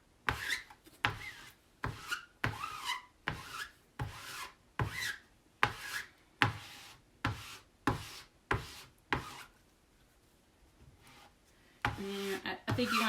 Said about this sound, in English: I'm just going to plop some on and take my 4-inch squeegee and just